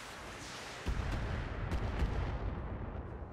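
Short-range missiles fire in a BattleTech game, a burst of booming, rumbling blasts kicking in about a second in and rolling on with several heavy thumps.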